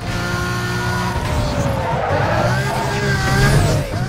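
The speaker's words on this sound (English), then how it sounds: "Ming's Gallardo is extremely good in these curves" A Lamborghini Gallardo races through curves in Need for Speed: Most Wanted, with a steady engine roar and skidding tires squealing through the turns.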